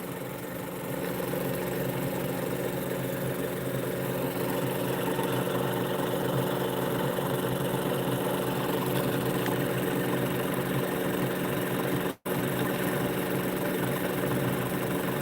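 A pulse motor with a magnet rotor on a dual 90° drive runs steadily, a constant humming whine with a fixed pitch, cut by one sharp dropout near the end, with no talk.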